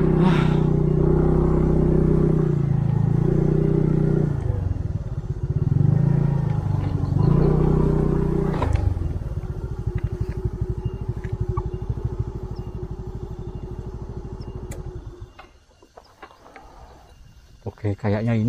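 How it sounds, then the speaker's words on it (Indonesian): A motorcycle idles and runs close by on a forested cliffside road at Gunung Gedang in Blitar. Its steady engine rumble shifts in pitch, then cuts off near the end as the bike is parked. "Ini saya parkir motor dulu."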